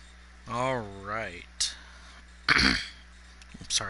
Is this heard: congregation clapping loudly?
no